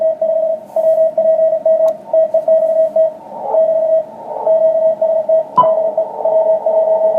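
A steady Morse code CW radio tone keys on and off in quick dots and dashes over a soft, hushed hiss softened by receiver noise reduction, with a couple of brief clicks.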